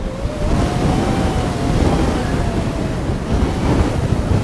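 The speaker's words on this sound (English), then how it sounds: "It's currently gusting around 45 kilometers an hour," Strong storm gusts of around 45 kilometres an hour roar outdoors in a constant, loud rush with heavy wind buffeting on the microphone and no voices.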